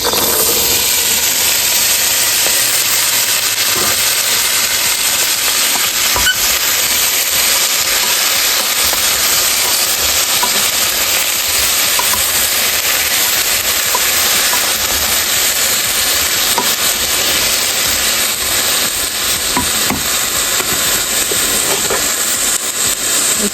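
Vegetables fry in oil with salt and turmeric in a home kitchen, giving a continuous loud, close sizzle and hiss that holds steady throughout, with no talk.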